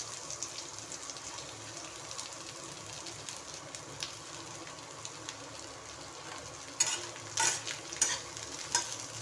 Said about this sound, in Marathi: आता हे चांगलं भाजून घ्यायचं, कांदा ब्राऊन कलर होईपर्यंत भाजून घ्यायचं आहे.